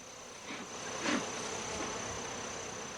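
Honeybees buzz steadily at close range as they are swept off honeycomb frames with a soft horsehair brush into a hive box, with a brief louder swell of buzzing partway through.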